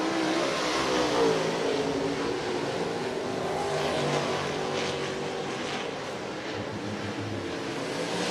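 Open wheel modified race cars roar around Volusia Speedway, engines droning loud and continuous as the pack passes, with a sustained rumble that fades slightly toward the end.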